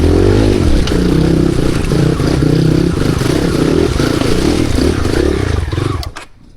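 A loud motorcycle engine roars and revs steadily uphill with rattling clatter, close by, then cuts off abruptly near the end.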